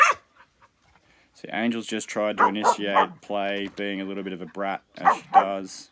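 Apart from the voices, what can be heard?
dog barking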